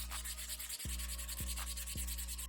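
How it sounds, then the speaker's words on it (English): Wooden stir sticks are sanded by hand for a wooden sword build, giving short rhythmic scratchy rubbing strokes, close and quiet over a steady low electrical hum. "I sand off the blade"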